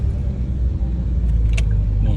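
Jammed traffic on Alauddin road in Makassar, in front of the UIN campus during a student demonstration, rumbles low and close as idling and creeping car engines, with a brief higher clatter partway through.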